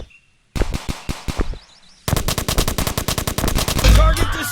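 Assault rifle fire in the game Jack Street comes in loud, close bursts: a short string of separate shots, a pause, then a long rapid stream of shots.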